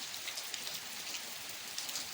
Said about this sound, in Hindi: बारिश भी बहुत है गाइस